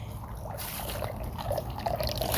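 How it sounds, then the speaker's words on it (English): Water trickles steadily from a garden fountain being cleaned, a soft continuous flow that stays close and unbroken with no voices over it. "Now it's flowing. Can you see it trickling? So fountain is still open."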